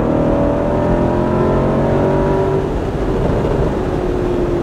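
A sports car engine revs loudly and close, a dense continuous roar whose pitch rises and then drifts downward over several seconds, with no voices.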